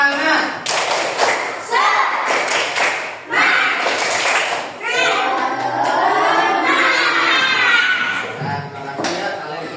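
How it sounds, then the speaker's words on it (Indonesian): A classroom group performs a rhythmic spirit clap, sharp patterned claps in quick bursts mixed with voices chanting along, close and loud. "Tepuk semangat."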